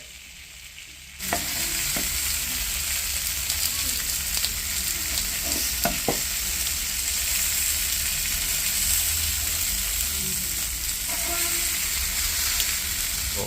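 Fried fish reheating on a hot tawa, Mangaluru style, giving a loud, steady, close-up sizzle that continues unbroken after a quieter opening moment, with no talking.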